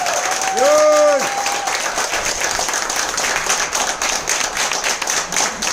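An audience at a training session claps, a dense steady burst of many hands continuing throughout, with a brief tonal sound near the start and some voices mixed in.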